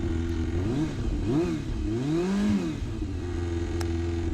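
A Yamaha FZS 600 Fazer motorcycle engine idles on choke while cold, a loud, rough, steady running note that rises and falls slightly with small swells, heard up close.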